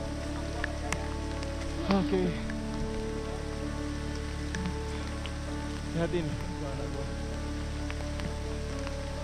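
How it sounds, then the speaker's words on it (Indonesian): Light drizzle patters steadily on leaves in a hillside forest on a hiking trail at Puthuk Siwur, Pacet, Mojokerto, East Java, a soft continuous hiss with scattered drips, while people talk briefly over it. "gerimis hujan"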